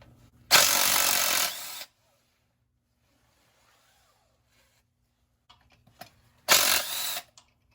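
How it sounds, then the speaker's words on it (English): Ratchet wrench removing half-inch bolts from the thermostat housing on a Ford 351C/351M/400 engine, two loud close bursts of rapid clicking separated by a quiet stretch with faint tool clinks. "Now we can take our 2 half-inch bolts out."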